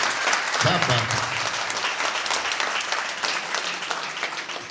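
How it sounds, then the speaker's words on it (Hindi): A church congregation claps with both hands raised, a sustained burst of applause that carries on throughout, with a voice speaking over it early on. "एक बार दोनों हाथ उठाकर ताली बजा दे, दोनों हाथ उठाकर।"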